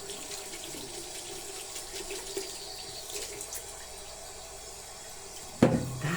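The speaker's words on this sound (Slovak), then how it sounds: "Tvár si opláchneme vlažnou vodou." Lukewarm water runs from a tap as a face is rinsed at a sink, a soft steady trickle and splash heard close by, ending with a brief louder splash.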